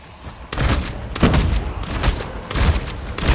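Gunfire at zombies in COD Mobile zombie mode comes as several loud close bursts of rapid shots, each about half a second long, separated by brief gaps.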